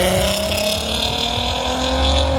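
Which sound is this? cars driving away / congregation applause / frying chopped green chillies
cars driving away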